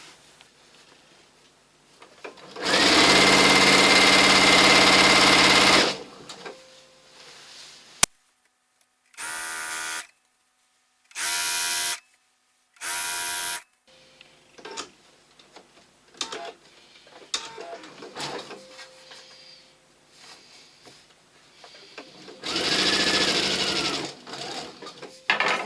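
Domestic sewing machine stitching quilt-top strips together, running in a long steady burst, then several short separated bursts, and another sustained run near the end, with quiet handling noises between.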